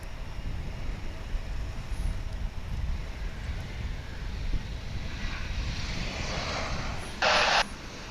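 An airliner taking off from runway 28 left at Dallas/Fort Worth, a distant, faint, steady engine rumble under wind noise, with a short burst of hiss near the end.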